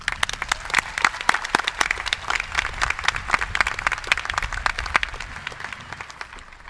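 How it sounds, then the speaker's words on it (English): A crowd applauds at a Boerne High School graduation ceremony in 2025, with sharp, distinct claps in a lively irregular patter that holds steady for several seconds before thinning slightly. "A round of applause again."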